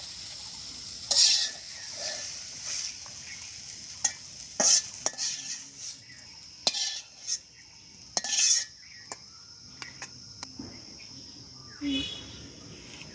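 Leaf greens frying in a pan in a village kitchen, with a utensil scraping and clinking against the pan in bursts of stirring over a low, steady sizzle.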